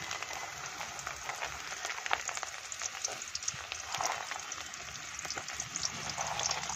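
Chopped vegetables with carrot fry in a pan for fried rice, giving a steady close sizzle and crackle with occasional stirring scrapes and no talking.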